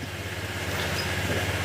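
A motorcycle engine idles with a steady low hum, even for a moment, close and unchanging, with no voices.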